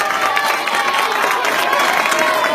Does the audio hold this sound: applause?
yes